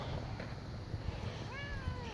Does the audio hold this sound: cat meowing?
yes